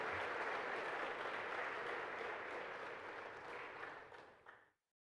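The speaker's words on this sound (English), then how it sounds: "how about a round of applause for these fine folks?" Audience applause at a scholarship competition event: a steady wash of clapping that holds for several seconds, then tapers and stops abruptly.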